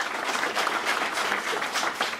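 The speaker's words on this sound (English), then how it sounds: "You're applauding like that's the first time that ever happened." A comedy club audience applauds a stand-up comic, a brief, lively burst of clapping filling the room.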